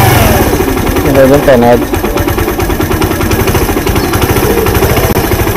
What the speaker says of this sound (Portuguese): Esse parafuso aqui, baixa ele acelera, basicamente acelera a moto.